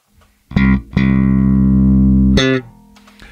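Audio signal run through an 1176 compressor: sustained, evenly leveled tones with flattened dynamics, a short note followed by a long held one and another brief note, clean and loud with no talking.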